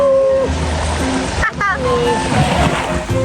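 Strong sea waves at a beach, a loud continuous wash of surf and wind buffeting close to the microphone, with people talking and calling out over it.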